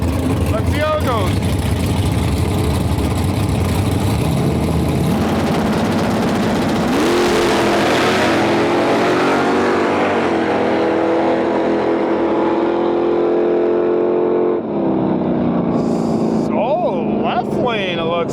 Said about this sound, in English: we got a Barracuda going up against a Chevelle